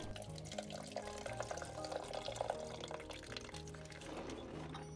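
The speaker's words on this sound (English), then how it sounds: "Tip the filter over to drain it." Fuel draining out of a tipped-over fuel filter while a DF Goblin car's rear is stripped, a thin, steady trickle of liquid pattering and dripping close by, faint under a low background hum.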